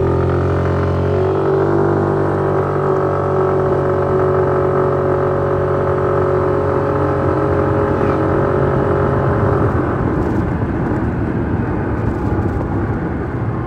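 A Suzuki Burgman Street 125 scooter engine revs up steadily, its pitch climbing as it accelerates, loud and close with continuous road and wind rumble.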